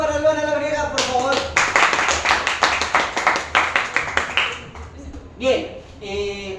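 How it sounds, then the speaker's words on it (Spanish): An audience claps for a storyteller at a live storytelling event, with a burst of rhythmic, fairly close clapping between stretches of a speaking voice before and after. "Fuerte el aplauso para Luana Labriega, por favor."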